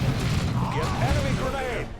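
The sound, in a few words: grenade explosion and gunfire from video game Dawn of War 2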